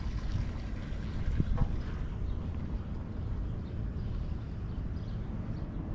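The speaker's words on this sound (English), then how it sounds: "This is the fire department boat." Fire department boat on the Potomac River near National Harbor, its engine rumbling steadily and low under strong wind noise on the open water, with no talking.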